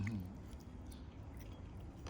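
Quiet close-up chewing of fried sour fermented pork with bits of soft cartilage, faint soft squishy mouth sounds over a low background hum.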